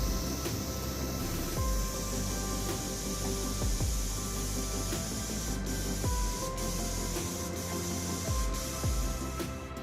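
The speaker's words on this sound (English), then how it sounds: "Now the second coat I'm applying nice and thick, just so I get complete coverage." A spray gun lays a thick second paint coat on a 2013 Cadillac Escalade, a steady airy hiss mixed with a deep compressor-like hum that pulses at regular intervals.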